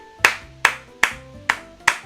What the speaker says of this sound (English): So that deserves a clap.